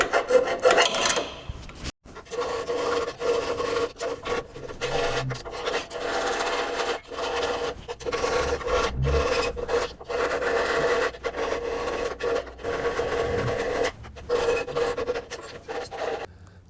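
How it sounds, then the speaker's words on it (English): Hand file rasping out rusted metal on an old Volkswagen being restored, a steady series of scraping strokes close up with a brief pause early on, no talking. "file it out."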